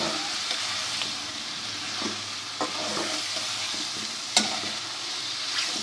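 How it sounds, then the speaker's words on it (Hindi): Onion paste fries in a pot for chicken karahi, a steady close sizzle with occasional soft spoon scrapes and stirring knocks, one sharper clink near the end, no talking. "2 अदद दरमियाने साइज़ की प्याज लेकर उसका पेस्ट बनाया था वो भी इसमें शामिल करते हैं, और इसको मज़ीद जो है वो थोड़ा सा भून लेते हैं"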